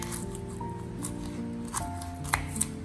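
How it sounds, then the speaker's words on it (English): Hard root ends are trimmed off garlic cloves with a few quiet snips and cuts near the end, heard faintly beneath steady background music. "First, just trim off the hard root ends of the cloves."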